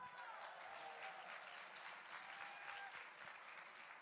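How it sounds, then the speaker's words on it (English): Steady applause from an event audience in Jordan, dense and sustained at an even level throughout, with no voices standing out. "Let me hear a big round of applause"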